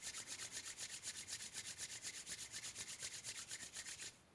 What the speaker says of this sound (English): Rubbing the hands again.